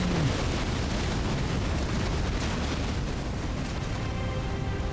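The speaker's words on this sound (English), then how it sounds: "It's going to breathe fire all over me." In Elden Ring, a magma worm breathes fire in a continuous loud roaring blast of flame, dense and unbroken, heavy and close with a rumbling low end.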